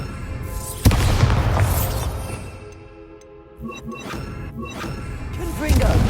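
A Bombarda spell exploding in Hogwarts Legacy, a sudden heavy boom with a whooshing magical burst and crackling debris, followed by further impacts and rumbling game effects.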